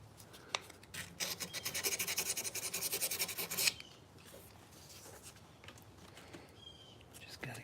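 A knife blade filed by hand in a workshop to remove grind lines, a quick run of close, rapid rasping strokes lasting a few seconds before fading to quiet scraping.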